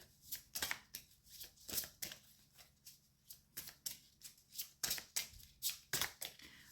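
Karma oracle cards being shuffled, a steady run of crisp riffling bursts repeating through the whole stretch, moderately close and quiet with no talk.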